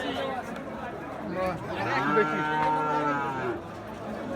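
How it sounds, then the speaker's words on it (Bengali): A Friesian cross bull calf at a busy village cattle market gives one long drawn-out moo, close and loud, with crowd chatter and other livestock in the background. "এটা ফ্রিজিয়ান জাতের ষাঁড় বাছুর"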